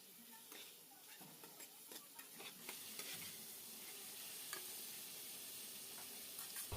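Fried fish heads sizzle in a pan with cumin and chili powder as they are stirred into the spices for a moong dal, giving a steady close crackle with frequent scraping strokes.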